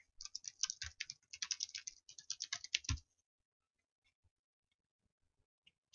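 Close, rapid typing on a computer keyboard fills the first three seconds in quick, uneven bursts of key clicks, then stops, leaving near silence with a few faint taps.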